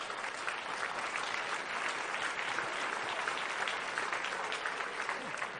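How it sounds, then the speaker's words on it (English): A panel audience claps in a steady, dense round of applause that holds at an even level throughout, with no talk over it. "Big round of applause."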